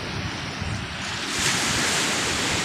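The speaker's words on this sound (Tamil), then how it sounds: "கடலும் இன்றைக்கி வந்து ரொம்ப சீற்றமாக இருக்குது." Rough sea surf at Pondicherry surges and crashes onto the shore in a constant loud roar, with wind buffeting the microphone and a swelling wave near the middle.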